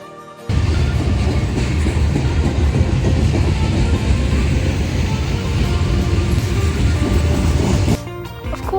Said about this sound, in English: so I have to wait for a train